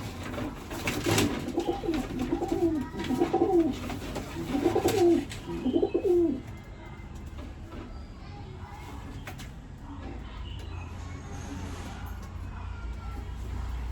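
Domestic pigeons coo in a rhythmic series of soft, throaty calls at close range for the first half, then fade to a quieter background hum with faint distant noise.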